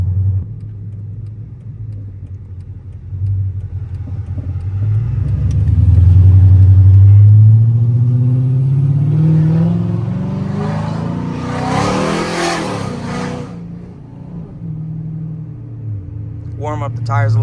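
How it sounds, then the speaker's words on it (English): A modified Chrysler 300C with long tube headers idles with a deep exhaust rumble, then revs hard into a loud, swelling roar before settling back, close and dominant, with talk over it. "enjoy the car, enjoy the exhaust, especially due to the fact that these long tube headers will not be on the vehicle come next spring"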